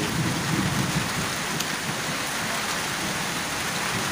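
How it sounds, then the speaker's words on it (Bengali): Heavy rain pours during a cyclone storm with strong wind, a dense, loud, unbroken roar of falling water with gusty rumbling underneath. "পুরাদমে ঝড় উঠে গেছে, গাছের পাতা পড়া শুরু করেছে। এত বৃষ্টি, প্রচুর মেঘ"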